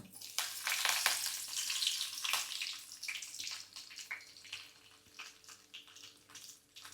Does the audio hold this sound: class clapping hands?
no